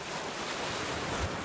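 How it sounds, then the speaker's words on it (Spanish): Ocean waves wash in a soft, continuous surf roar with wind noise on the microphone, one swell rising near the end, and no talk. "Observo las olas"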